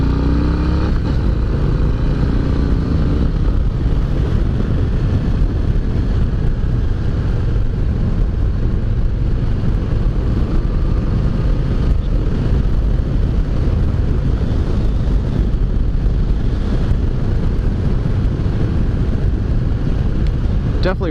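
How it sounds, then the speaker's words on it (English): 2020 Harley-Davidson Low Rider S riding on the road, a continuous loud engine drone heavily mixed with rushing wind buffeting the microphone, steady throughout with no clear speech. "let's jump on the bike and take it for a spin"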